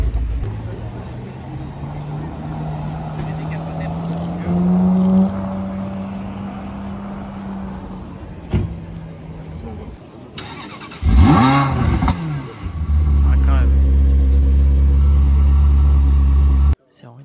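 A Maserati 3200 GT with boomerang tail lights and a twin-turbo V8 passes on a Paris street, a sharp rising engine sweep near the middle followed by a loud, steady low rumble, with people talking over the traffic noise.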